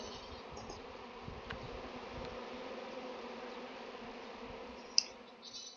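A swarm of honeybees hums steadily beside an empty hive, a continuous close buzz with a few faint clicks and one sharp tap near the end, and no voices.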